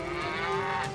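Cartoon cows moo in one long, loud, drawn-out bellow for a children's animated train show, where cattle have wandered onto the railway tracks.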